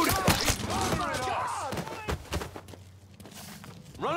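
Gunfire in Mafia 3: Definitive Edition, several sharp shots cracking amid shouting voices and scuffling footsteps, with a tense lull late in the scene.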